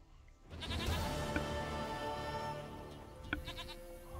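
A goat in the video game The Witcher 3 bleats in one drawn-out, wavering cry that starts abruptly after a brief quiet and fades off, fairly faint and heard alone without speech.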